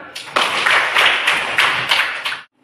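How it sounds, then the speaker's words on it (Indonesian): Children in a classroom clap together in a quick, steady patter of claps, fairly loud and close, stopping abruptly at the end. "Tepuk tangan."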